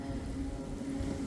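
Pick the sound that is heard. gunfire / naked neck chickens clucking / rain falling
rain falling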